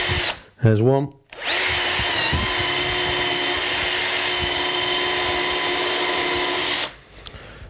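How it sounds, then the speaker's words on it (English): A Bosch power drill with a countersink bit bores a hole in wood for a chicken coop, a steady high whine lasting about six seconds before stopping, with brief speech just before it starts. "drill the hole with the countersink."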